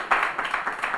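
A brief burst of studio audience clapping on a TV One morning talk show, a quick rhythmic patter of several hands, moderately close and fading.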